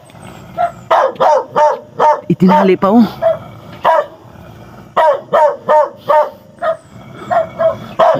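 A young dog barks in repeated sharp bursts, close and loud, in short clusters with brief pauses, while people talk over and between the barks.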